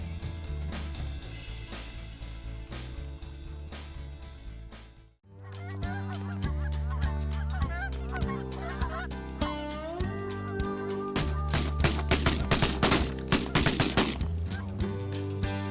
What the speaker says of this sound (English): Ducks and geese as fast as they can get in here.